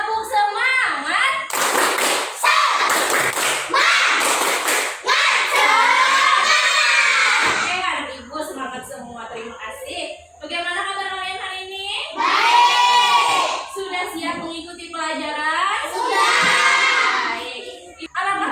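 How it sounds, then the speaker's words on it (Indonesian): Primary school class in Indonesia performs a rhythmic spirit clap, loud bursts of patterned clapping mixed with children shouting and chanting in unison, separated by brief pauses and spoken cues. "Kita tepuk semangat bisa?"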